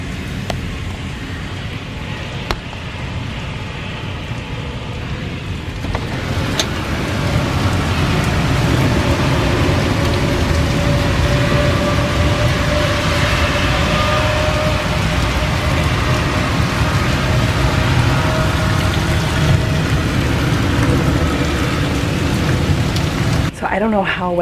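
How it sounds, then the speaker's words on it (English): Heavy pouring rain in a sudden summer downpour, driven by strong wind into sheets, roars as a loud, steady broadband wash throughout, with a faint voice briefly heard under it. "the sky's just opened. It is pouring. It's so windy."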